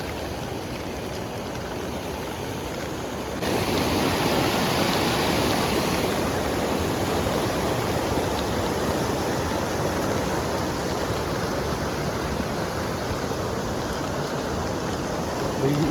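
A swollen, fast-flowing mountain stream in Bhaderwah valley, Jammu, high after rain, roars steadily and close by. The rush grows noticeably louder a few seconds in, then holds a constant heavy wash.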